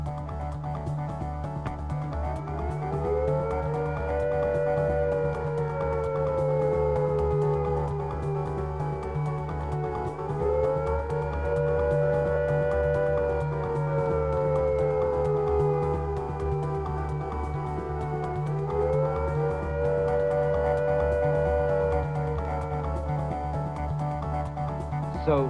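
A wailing civil defence air raid attack-warning siren rises and falls in long, slow cycles, loud and steady, sounding alone with a low hum beneath it.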